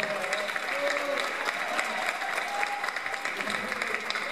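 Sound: applause for the accordionist

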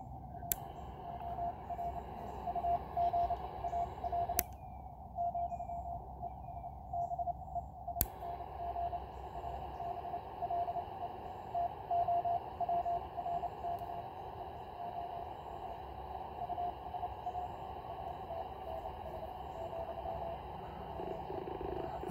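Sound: Morse sidetone from Penntek TR-45L radio with notch filter

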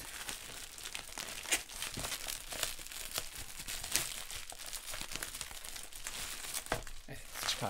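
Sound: taking a sketchbook out of its box

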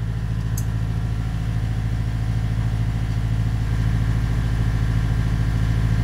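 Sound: engine running at about 2200 RPM

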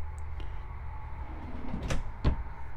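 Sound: drawers opening and closing in an RV fifth wheel trailer

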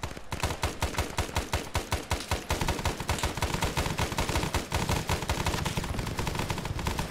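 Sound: gunfire in the video game Arma 3

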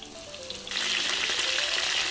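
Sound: frying cabbage in oil in a pan

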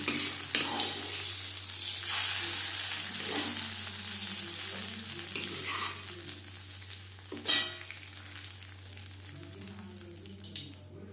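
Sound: tempering (tarka) poured into broccoli khichuri, sizzling

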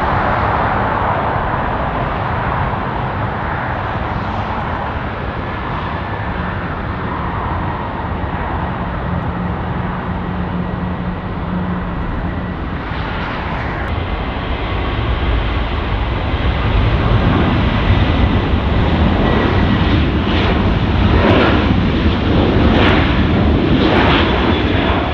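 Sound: Airbus A330 taking off from Zurich runway in video game Infinite Flight

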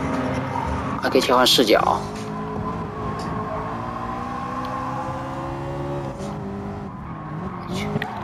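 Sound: racing car engine and tyre squeal in a PS5 racing game on the Nürburgring

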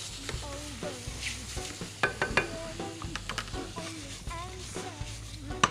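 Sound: shrimp frying in butter with chorizo in a pan

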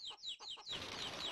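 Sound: chickens clucking in the video game Chulip

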